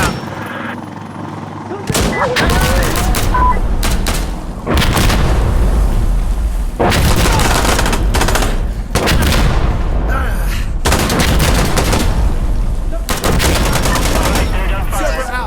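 Bursts of gunfire and booming artillery in Insurgency: Sandstorm come in loud waves between brief lulls, with faint radio-style voices now and then.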